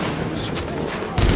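Blind-fire gunshots in Tom Clancy's The Division, a rapid fusillade of close, loud shots running together, ending in a heavier low thump.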